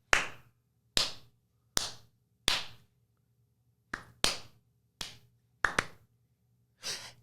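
Nine sharp claps ring out one at a time at irregular intervals, each a crisp slap with a short decay, separated by near silence over a faint low hum.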